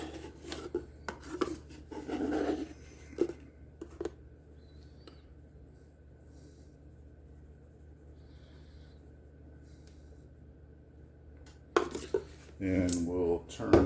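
Utensil clinks and scrapes against a bowl while buttermilk biscuit dough is mixed, busy at the start, then a long quiet stretch before renewed scraping and clatter.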